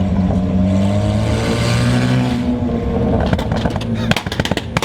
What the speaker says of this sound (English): and a burble tune. Hear what it sounds like.